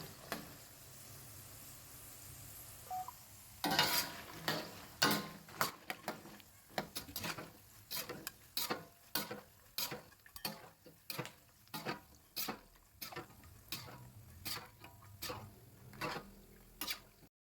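Kacang medan, fried peanut dough snacks, sizzling steadily in hot oil while a metal spoon or strainer scrapes and clinks against the pan in a regular rhythm as they are lifted out.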